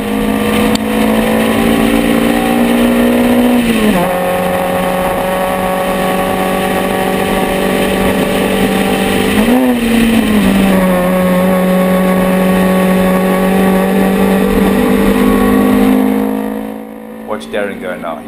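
A race car on a circuit straight, its engine a loud, close, steady high-revving whine with two brief dips like gear shifts before the note fades away at the end, and someone talking over it.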